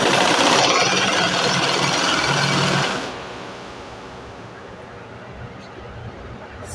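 An electric motor-driven sewing machine stitching a pencil skirt whirs loudly and steadily for about three seconds, then drops to a quieter, continuous hum.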